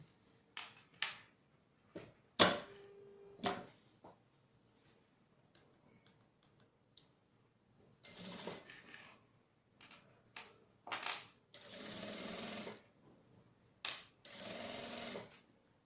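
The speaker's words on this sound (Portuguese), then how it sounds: "Vamos costurar desse lado a volta toda e depois do outro lado também a volta toda." A sewing machine stitches a phone wallet in short, intermittent bursts of rapid mechanical clatter, separated by quiet pauses and a few sharp clicks and knocks, heard close and fairly faint.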